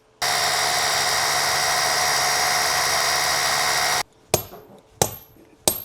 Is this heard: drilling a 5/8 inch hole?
yes